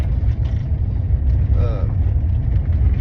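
A vehicle rolls down a rural gun range road on a farm, giving a steady, close, low engine rumble with road noise throughout. A voice may be faintly present underneath.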